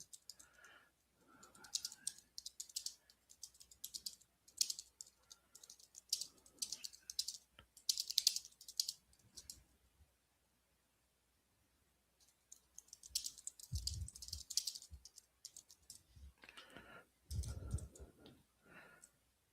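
Someone types on a computer keyboard in quick irregular bursts of clicky keystrokes, close and fairly quiet. A few pauses break the typing, and there are brief low thumps near the end.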